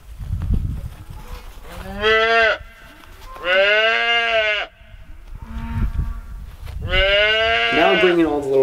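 Young calves a couple of days old on a farm, bawling in several long, loud moos and bleats close by, separated by short pauses filled with rustling and shuffling.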